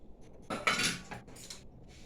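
Dishes and cutlery clinking while rice is served in a home kitchen, a few quiet, close taps and scrapes of metal on plates, clustered in a short burst with soft pauses between.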